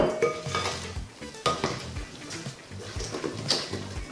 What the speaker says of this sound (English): Mixing it around again. Make sure you're scraping the sides, and then the last little bit.